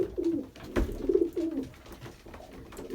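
Pigeons cooing in a loft on a near-freezing day, soft low repeated coos close by with a few brief rustles, no talking.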